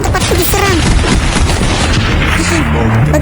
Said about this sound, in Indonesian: Kenapa ada banyak sekali suara tembakan?